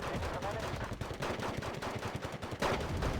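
Sustained machine gun fire in a shooter video game rattles as a rapid, steady stream of loud, closely packed shots across the whole stretch, with faint voices underneath.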